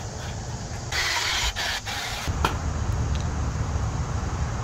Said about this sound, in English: all I'm using is just cutting compound, bit of sponge, little Milwaukee buffer.